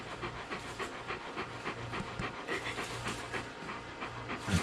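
A dog pants steadily in quick, breathy rhythm close by, continuous and fairly faint against low background rumble.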